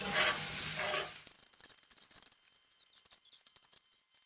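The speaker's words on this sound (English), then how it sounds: "And you're going to stir this in. You're just going to toss them around for about 2 minutes" Potatoes sizzling in a frying pan, loud at first, then quieter as they are stirred and tossed with a run of short scraping and clattering taps.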